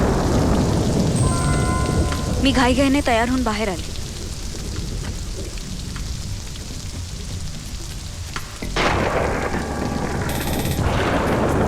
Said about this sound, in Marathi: पण जोरात पाऊस सुरू होता.